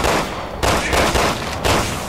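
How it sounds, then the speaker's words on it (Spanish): Gunfire in the video game Resident Evil 6 comes as loud, dense, overlapping shots in two heavy bursts, close and forceful, with a continuous rattle of firing between them. "Buen disparo, Pierce."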